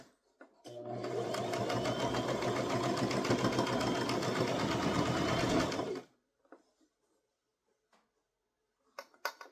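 A sewing machine stitches steadily around a curve on a toddler crossbody purse, one continuous close whir lasting several seconds before it stops abruptly, followed by a few quiet handling clicks.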